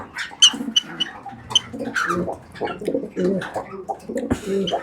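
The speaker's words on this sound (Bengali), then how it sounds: "এই আমার ককাটাল জোড়া ডিম পারছিল পাঁচটা" Cockatiels chirp and chatter close up in quick bursts, with soft warbling calls between, while a person talks over them.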